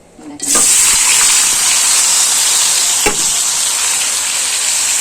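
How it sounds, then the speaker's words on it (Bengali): Pieces of sponge gourd drop into hot oil and burst into a loud, sudden sizzle that settles into a steady, close hiss for several seconds, with one faint clink partway through. "তেলটা একটু গরম হইলে পরে আমি সবজিটা ছাড়বো"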